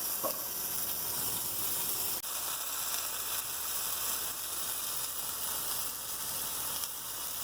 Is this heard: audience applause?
no